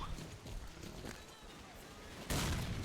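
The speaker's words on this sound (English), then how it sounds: "I got a lot of gunfire going off" Gunfire in the S.T.A.L.K.E.R. Clear Sky video game, a mix of scattered distant shots and louder bursts that swell near the end, heard under a person talking.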